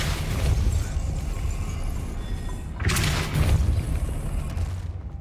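A Depulso spell cast in the Hogwarts Legacy video game lands as a heavy booming thump with a burst of force, set over a rumbling game background, with a second surge a few seconds later.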